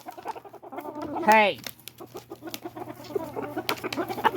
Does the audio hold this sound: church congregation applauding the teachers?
no